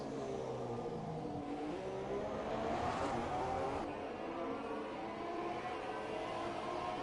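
A Ferrari race car engine in a sim racing game at the Chinese GP drones steadily and loudly, its pitch rising and falling as it accelerates out of corners.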